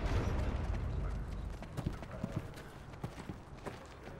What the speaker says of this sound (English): I heard doors and horses.